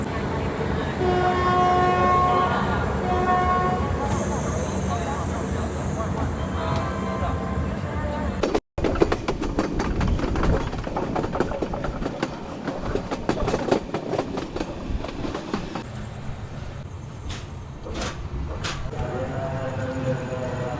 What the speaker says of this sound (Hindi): 11:46 में ट्रेन निकल चुकी है।